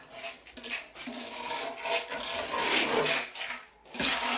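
Trowel scraping excess thinset mortar off a tiled shower wall, a dry rasping rub repeated in uneven strokes, close and fairly loud with short pauses between passes.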